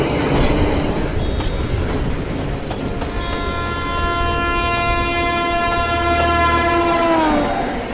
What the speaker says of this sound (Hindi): चुड़ैल हाँ में सिर हिलाती है और अपनी शक्ति से ट्रेन को स्पीड में भगाने लगती है।